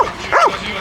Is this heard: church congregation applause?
no